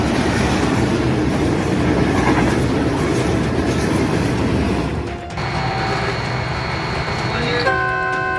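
A train rumbles loudly past at speed with a steady roar and rattle, then a tonal horn sounds near the end.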